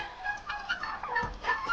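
Turkey hens cry out in a Ukrainian village farmyard, a few short, shrill calls overlapping in quick succession at moderate distance.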